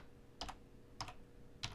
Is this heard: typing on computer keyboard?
yes